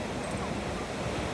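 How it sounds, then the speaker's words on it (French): Ocean waves breaking at Bondi Beach in Sydney, a busy surf beach, give a continuous broad wash of surf with steady wind noise, moderately loud and without pause; no talking. "Quand même une très très belle plage, beaucoup de vagues, pas mal de surfeurs."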